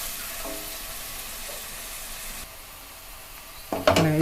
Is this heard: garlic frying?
yes